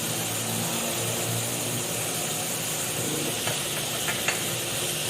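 Chicken and carrots frying in a pan, a continuous loud sizzle and hiss with faint stirring scrapes near the end, close and steady with no talking.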